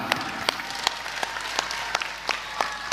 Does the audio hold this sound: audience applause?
yes